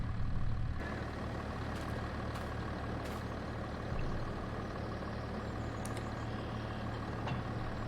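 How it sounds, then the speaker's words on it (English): A vehicle engine in Farming Simulator 22 kicks on after a brief quiet moment and then idles in a low, steady, faint rumble, with no talking. "That's how you can start the engine."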